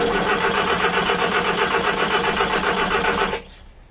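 Morris Minor engine cranking on choke without firing, a steady rapid chugging of the starter motor for about three seconds before it abruptly stops.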